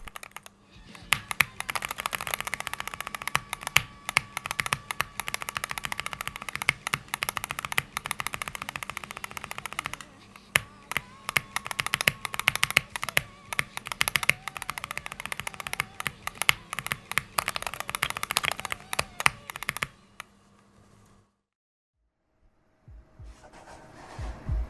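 Single key taps on a Wooting 80HE keyboard, recorded close and alone, with rapid clicky strikes for about twenty seconds before they stop and a few isolated taps follow near the end.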